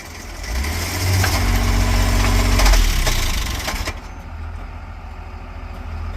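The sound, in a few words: Mercedes car engine starting and idling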